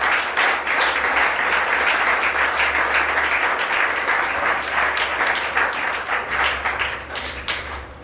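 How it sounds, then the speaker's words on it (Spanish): Sustained congregation applause at a church service fills the full stretch, dense and steady with a slight dip toward the end, loud and close. "Dale más fuerte ese aplauso al Señor"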